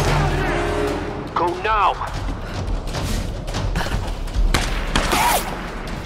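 Rapid gunfire cracks and thuds in Tomb Raider (2013) as enemies shoot toward a cliff shrine. The bursts are loud and close, mixed with urgent shouting voices.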